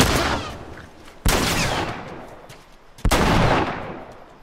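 Three loud, sharp gunshots from The Last of Us on PS4, each blast ringing out and decaying into a long echoing tail, spaced a second or two apart.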